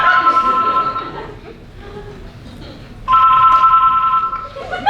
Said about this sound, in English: Yeah, I got a landline for you.